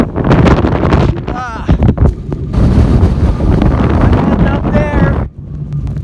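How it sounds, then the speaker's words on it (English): Strong, gusty wind roars across the microphone in nasty weather up high beside a lifted Jeep Wrangler Rubicon, loud and continuous with someone talking over it. "The wind is very nasty."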